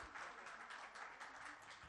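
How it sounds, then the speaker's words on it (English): Faint, distant audience applause after a talk at a research conclave, a steady continuous patter of many hands with no break. "Give a round of applause to Ms."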